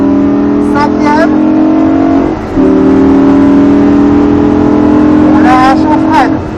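A Lamborghini Gallardo pulls hard at full throttle on the Nogaro race circuit, a loud steady engine drone with a brief dip at a gear change, heard from inside the car while someone talks over it.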